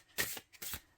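Tarot cards with flimsy cardstock shuffled gently by hand, two short papery bursts of riffling close to the mic, alone with no talk.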